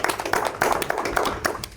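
Audience applause at a live Amharic comedy show, a brief burst of quick, close hand claps with taps scattered through it, no talk over it.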